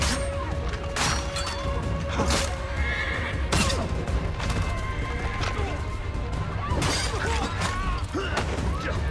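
A horse neighs loudly amid dense Assassin's Creed III game sound, with clattering hooves and crashing impacts filling the scene throughout.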